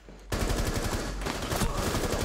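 Rapid bursts of automatic gunfire in the shooter game Rainbow Six Siege, sharp repeated shots in a fast steady rhythm after a brief quiet start, loud and close with no talk over them.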